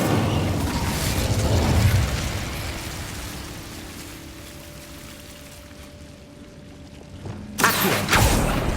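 An Incendio fire spell cast in Hogwarts Legacy: a rushing, fiery whoosh fades into quiet ambience, then a sudden bright burst of flame flares up near the end.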